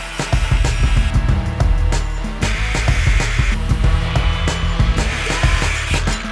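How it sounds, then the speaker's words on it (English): Power tools sand and grind aboard a narrowboat, with a steady whining drone broken by repeated clattering bursts and shifting pitch as the discs bite into the work, loud and close. "One sanding, one grinding."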